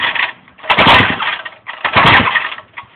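A small engine with a compression gauge fitted is pull-started by hand twice, giving two loud, close bursts of rapid cranking and chugging that never catch and run, separated by a brief pause.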